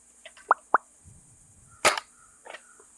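A Novritsch SSG96 airsoft sniper rifle fires a single sharp, loud shot near mid-clip, preceded by two short clicks and followed by a fainter snap, with no talking.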